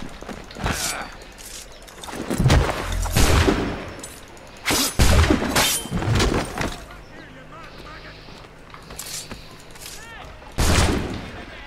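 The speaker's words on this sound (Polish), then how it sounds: "No, dwa strzały." Bursts of video game gunfire from Assassin's Creed III Remastered crack repeatedly in uneven clusters, some rapid volleys, with a voice talking between the shots.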